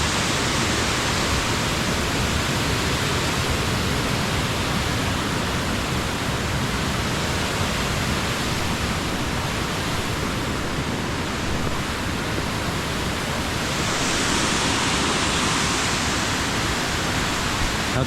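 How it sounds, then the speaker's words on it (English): A big waterfall in West Virginia roars as a dense, constant rush of falling water, loud and close, with no talk over it. "Big waterfall."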